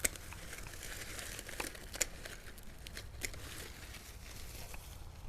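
Mum (chrysanthemum) plant stems cut way back by the handful in winter for cuttings, giving soft, faint crinkly rustling of handled foliage with a few sharper snips or clicks.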